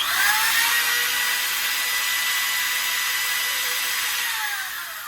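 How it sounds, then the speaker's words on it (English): An electric drill runs steadily off a boat's solar-powered inverter, a continuous high whine holding level for several seconds before easing off slightly at the end, with no voices. "now we have our drill connected to the inverter"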